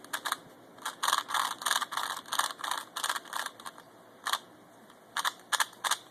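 A modded Type C IV Witlong speed cube is turned rapidly, giving loud, crisp, close clicking in quick bursts of ratcheting clatter with short pauses between turns.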